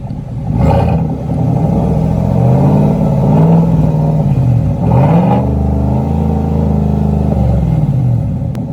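A 2019 GMC Sierra 1500 Denali, leveled on 33-inch tires with a Borla Atak exhaust, is revved repeatedly in place, its deep rumbling idle swelling into loud roaring blips before settling back to a steady throb.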